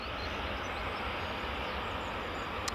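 Jets heading out at Edinburgh Airport, among them a Jet2 and an Air France C Series, make a steady, broad engine roar that holds at a constant level throughout.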